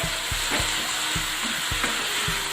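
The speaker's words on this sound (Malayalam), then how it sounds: "അപ്പൊ തക്കാളിയും കൂടി ഇട്ട് കൊടുക്കാം. ഇത് നന്നായിട്ട് നമുക്ക് വഴറ്റിയെടുക്കണം." Tomatoes sautéing in a pan for Kerala-style fish biryani: a dense, close sizzle under regular rhythmic thumps of a spatula stirring against the pan, about two per second.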